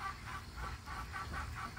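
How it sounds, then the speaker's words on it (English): Hens clucking in a rhythmic run of short, repeated calls, moderately close and continuous over a low background rumble. "these hens are ridiculous"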